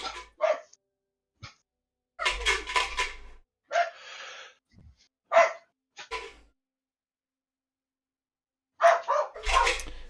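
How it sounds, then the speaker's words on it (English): Dogs barking in sharp, scattered bursts with gaps of silence between them, some barks doubled up, loud and fairly close, with no talk over them. "The dogs are yelling at stuff."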